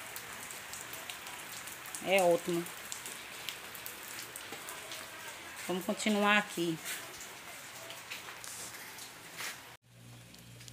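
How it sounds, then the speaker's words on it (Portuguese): Steady rain falls outside a home as a dense, even hiss through the whole stretch, while someone talks briefly at two points over it. "Eu gosto quando tá chovendo assim."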